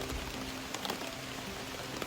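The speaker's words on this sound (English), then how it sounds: "little thunder, a little rain." Rain falls on a campsite along the Appalachian Trail, a dense, even hiss with occasional sharper drop ticks, steady and close with no voices.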